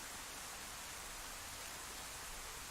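Heavy, loud rain in the video game DayZ, a steady broadband hiss that runs unbroken from start to finish with no talk over it.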